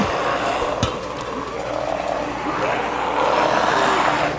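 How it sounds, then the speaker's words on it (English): Zombie growls and crazed noises from a zombie film form a dense, raspy clamour, with a sharp crack near the start and a steady rumble underneath. "You can hear the zombies going crazy."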